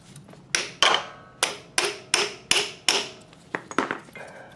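Sharp metallic hammer strikes knock a part into place during repair work on a 2001 Ninja 250 motorcycle, about nine distinct blows in an irregular rhythm, close and loud with no talking.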